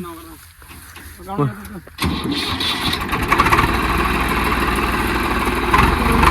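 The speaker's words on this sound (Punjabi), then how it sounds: "ਸਟਾਰਟ ਤਾਂ ਕਰਕੇ ਦੇਖ ਸੈਲਫ ਮਾਰ ਦੇ" An engine cranked with its electric self-starter catches after a brief moment and settles into a loud, steady, close idle, with people talking before it fires.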